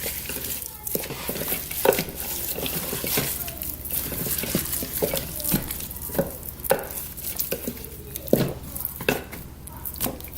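Seasoned pulled chicken is tossed and mixed by hand in a bowl, giving soft, irregular squelching and stirring noises with occasional knocks against the container, close and moderately loud throughout, with no talking.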